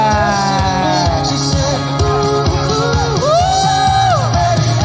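Wedding guests at a reception cheer, whoop and yell loudly as a crowd, with rising and falling shouts layered over music.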